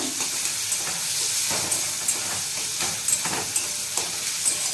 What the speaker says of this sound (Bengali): এবার টমেটো কুচিটাও দিয়ে দেবো। সবজিগুলো ভালোভাবে মিশিয়ে নেব।